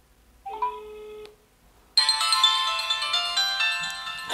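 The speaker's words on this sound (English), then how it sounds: "let's try to give it a call and see if it works" An HTC Touch Diamond2 phone rings on an incoming call: a short tonal chime, a brief pause, then a loud, bright melodic ringtone that plays on continuously, close and alone.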